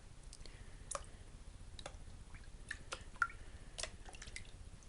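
A gold pan full of paydirt is swirled and tapped in water, giving faint drips and soft splashes with a few light knocks, quiet and close.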